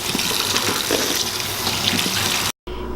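Tap water runs steadily over soaked onions being rinsed of salt in a kitchen sink, a loud continuous splashing gush that cuts out abruptly near the end.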